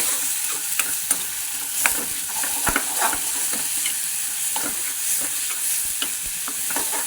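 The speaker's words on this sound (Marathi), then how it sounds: "जिरे टाकून घ्यायचे वाटलेला मसाला पण त्याच्यातच टाकून घ्यायचा असा छान पर परतून घ्यायचा" Cumin and a ground masala paste are sautéed in oil for a drumstick vegetable curry, stirred with continuous scraping strokes against the pan. The scraping sits over a bright, steady frying sizzle, close and fairly loud.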